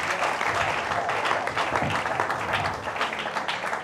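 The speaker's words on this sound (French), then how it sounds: "Applaudissons pour le Seigneur" A church congregation applauding during a service, a dense, continuous round of many hands clapping that stays fairly loud and even throughout, with no speech over it.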